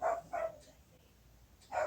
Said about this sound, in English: So I've got dog outside.